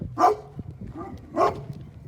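A dog barks twice, with the two barks spaced about a second apart, fairly close and moderately loud against a faint background hum.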